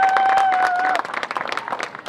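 Crowd applauding the Warriors Community Foundation at an outdoor basketball court reopening, lively clapping with a whistle-like tone early on and scattered voices mixed in.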